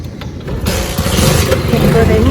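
A motorbike engine starting up and settling into a loud, rumbling idle close by, with a person talking over the running motor.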